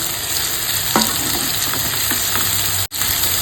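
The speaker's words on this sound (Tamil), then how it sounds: "பூண்டு செவந்துருச்சு, இப்போ நம்ம வந்து உருளைக்கிழங்கு ஆட் பண்ணிக்க வேண்டியதுதான்" Potatoes frying with browned crushed garlic in a pan over medium flame, a steady close sizzle with occasional stirring scrapes and a brief dropout near the end.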